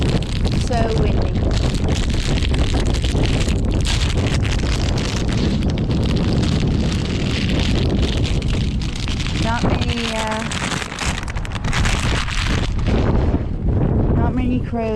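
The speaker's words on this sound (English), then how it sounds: "So windy." Gale force wind buffets the microphone in a loud, continuous roar with gusty surges throughout, while a few faint bird calls sound partway through.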